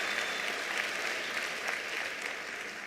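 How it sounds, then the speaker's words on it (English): A large ceremony audience at a national exam results announcement applauds in a steady, even wash of clapping, moderately distant and unbroken for the whole stretch. "Let's give MTN a big hand of applause."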